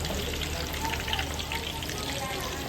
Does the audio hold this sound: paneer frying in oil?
yes